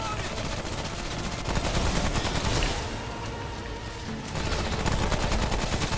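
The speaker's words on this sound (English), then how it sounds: "Thank you for shooting them." Dense, continuous gunfire from a co-op shooter game, Remnant: From the Ashes, rattling steadily throughout with a brief dip in intensity midway before surging again; no speech accompanies it.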